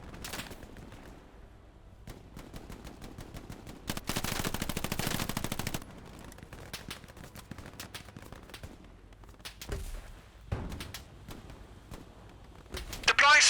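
Machine-gun fire rattles in a war video game, with a long sustained burst midway and scattered shorter bursts and single shots around it. The firing comes at moderate distance, with background noise between bursts.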